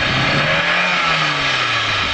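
An off-road 4x4 vehicle's engine revs hard and loud at close range, holding a strained, rising roar as it tries to reverse.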